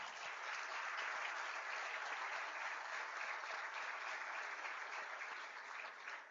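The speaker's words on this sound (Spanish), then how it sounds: "Les pido también para él un gran aplauso." An audience at a panel discussion applauds in a steady, dense wash of clapping that holds evenly throughout, heard at a distance in a large hall.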